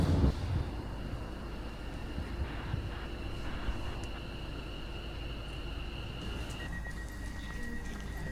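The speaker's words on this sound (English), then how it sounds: "Welcome aboard this West Midlands Railway service for Bromsgrove." A steady low rumble of a train running, with a faint high whine and a tone shifting near the end, no talking.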